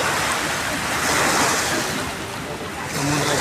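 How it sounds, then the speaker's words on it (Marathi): Sea waves wash steadily onto a sandy shore in Mumbai, a continuous close roar of surf that swells and eases slightly without a break. "बघा समुद्राच्या लाटा बघा"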